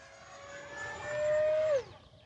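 An E-flite Habu XS 80mm electric ducted-fan jet model makes a pass, its whine swelling as it approaches, holding a steady tone, then dropping away sharply as it passes and fades.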